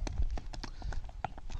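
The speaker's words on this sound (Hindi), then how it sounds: "आप देख रहे हो घोड़ी लोड हो रही है।" Hooves of a newly bought mare clip-clop on a hard surface while she is loaded at a stud farm in Mehsana, Gujarat, a quick irregular run of close, sharp knocks with faint voices in the background.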